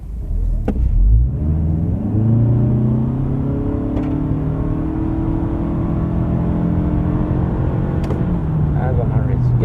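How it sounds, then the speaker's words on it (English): A 2024 Toyota Camry in sport mode accelerating hard, with engine drone climbing steadily in pitch and a brief shift dip, heard from inside the cabin with a constant rumble beneath. "let's do a quick acceleration test"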